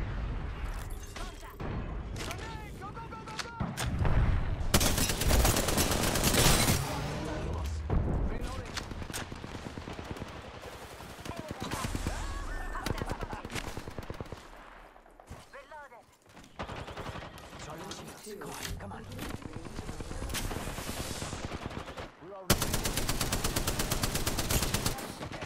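Loud bursts of automatic gunfire and heavy impacts in the Apex Legends battle royale game, dense firefights broken by short quiet gaps, with a player's voice talking in places.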